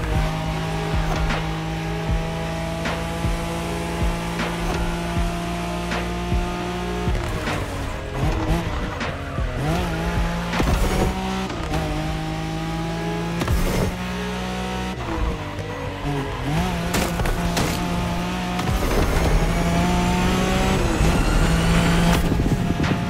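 A Nissan Skyline races at speed in The Crew Motorfest on a Japanese highway route, its engine droning steadily with shifting revs, tire squeals and sharp transients throughout, loud and continuous with no talk.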